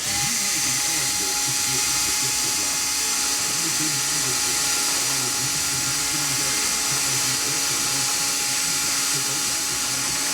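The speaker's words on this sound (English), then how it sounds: "I'll go ahead and drill my other 2 1/16 holes" A high-pitched cordless power drill whines steadily throughout, drilling 1/16-inch holes in a model aircraft build, close and loud, with a voice talking underneath.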